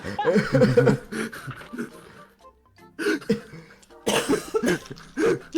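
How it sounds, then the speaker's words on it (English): Someone coughs in several close, loud bursts during a tabletop role-playing game session, mixed with chuckles, laughter and bits of talk from the players. "And you're coughing quite a lot."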